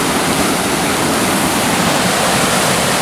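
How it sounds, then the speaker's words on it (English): A heavily flowing high-altitude mountain creek above Colorado Springs roars steadily and loudly nearby, a dense unbroken rush of water with no other sounds. "This is probably the heaviest flowing creek I've seen up this high."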